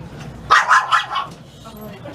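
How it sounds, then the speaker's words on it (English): A small dog lets out a quick burst of four or five sharp yips near a trolley stop by the sea lion docks in Astoria, Oregon, over steady outdoor background noise. "Hey, little dog, be quiet."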